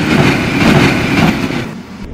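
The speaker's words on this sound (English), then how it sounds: "The train is quickly hurtling down the tracks" A train hurtles cross-country through woods, making a loud, close, continuous rumble with a steady clattering roll that eases slightly near the end, with no voices.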